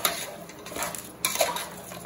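Mutton pieces stirred in a pan while sautéing, a soft, steady scraping of a spoon against metal with a few louder clinks near the middle, close and alone without talk.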